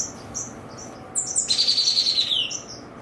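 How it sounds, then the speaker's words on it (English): Gold-breasted waxbills and parrot finches chirping in an aviary, short high tweets early on, then a louder, close, rapid twittering trill that runs for about a second before fading. "trying to listen over the GoldBreast and over the parrot finches"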